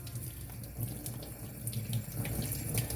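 Running tap water splashes over a cleaned teal duck in a sink, a steady close hiss and patter with uneven gurgles as the bird is rinsed, with no talking.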